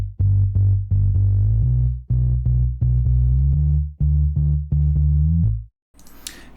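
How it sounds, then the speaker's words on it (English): Sub bass from the Ace VST synth run through the R-Bass harmonics plugin, a loud rhythmic run of low notes with richer upper harmonics, alone, followed by a brief noisy burst at the end. "I added the R-Bass plugin, which creates some harmonics and it makes the sound a bit more rich and interesting."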